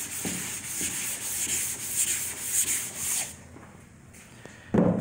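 Sandpaper rubbing rhythmically over primer on a 1961 Impala body panel, a close scratchy back-and-forth stroking that stops partway, followed by a brief knock.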